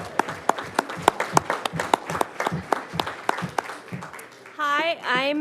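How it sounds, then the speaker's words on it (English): Scattered applause at a town council meeting: a small group claps in distinct, uneven claps for several seconds before it fades and a person begins speaking. "give you a round of applause for the donation"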